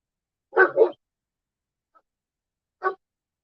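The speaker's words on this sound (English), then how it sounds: "He only barks when somebody's outside." A dog barks from a camper, a quick close double bark followed after a pause by a single shorter bark, with near silence in between.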